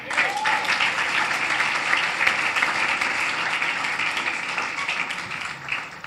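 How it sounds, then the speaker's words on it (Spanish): Applause from a church audience, dense and sustained clapping that fills the whole stretch, loud and close with a crowd texture and no pause. "Yo ya hubiera aplaudido."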